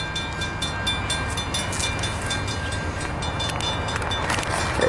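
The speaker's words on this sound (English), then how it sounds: "here comes the train" A CN local freight train passes a level crossing in the dark, a continuous rumbling roar with rapid clicking wheel and rail noise and no talking.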